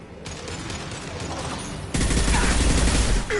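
Heavy gunfire in a video game, a dense, loud fusillade of rapid shots that intensifies sharply halfway through and continues as sustained fire.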